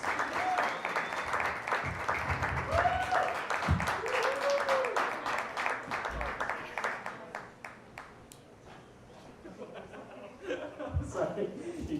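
A comedy club audience applauds comedian Robbie, with sustained clapping and some chuckles filling the room, then fading into scattered claps toward the end.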